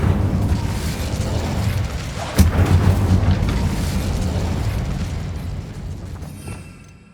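A Bombarda explosion spell goes off in the Hogwarts Legacy video game inside an abandoned mine. A loud, deep rumbling blast sharpens into a sudden crack partway through, then slowly dies away into silence.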